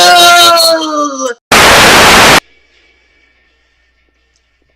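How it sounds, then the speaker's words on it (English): Burst of harsh radio static from the Silent Hill video game, warning of nearby enemies. It is loud, lasts about a second and cuts off abruptly, following a groaning voice-like sound and leaving near silence after. "It emits white noise to let us know there are enemies nearby."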